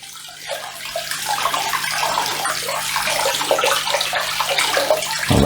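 Water gushes and splashes steadily through an Eheim Pickup 200 aquarium filter, a loud continuous close-up rushing flow that cuts off abruptly at the end.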